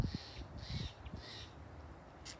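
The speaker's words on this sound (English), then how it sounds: "You can hear some birds chirping around us," Birds call by the Russian River amid greenery, a series of three or four harsh crow-like caws repeating at a steady pace, moderately distant and fairly faint over soft outdoor background.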